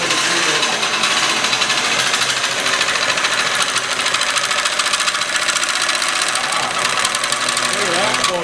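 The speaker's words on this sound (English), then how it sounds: "I'm going to cut this pipe the same as that pipe over there" A steel pipe for a 1997 Toyota Tacoma is cut with a power tool, giving a loud, rapid, steady buzzing rattle close by that runs without a break, with someone talking over it.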